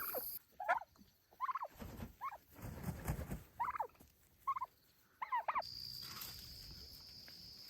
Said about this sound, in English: I wanted you to hear them all gobble and strut.